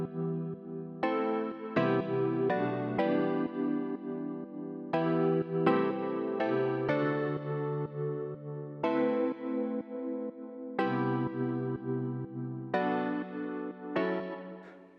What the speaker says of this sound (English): Let's play together the chords